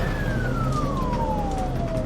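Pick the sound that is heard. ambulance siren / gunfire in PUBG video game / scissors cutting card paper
ambulance siren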